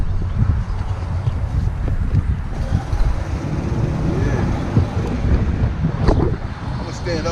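Strong wind roars and buffets against the microphone outdoors in a steady, loud rush with gusty swells and no pauses.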